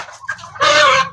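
Several chickens cluck close by, a short rising run of clucks followed by a louder, sustained squawk with no voices present.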